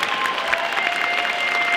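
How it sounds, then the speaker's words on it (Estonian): An audience at a dance gala marking a dance education anniversary gives dense, steady applause that carries on without a break. "suur aplaus tõesti kõigile"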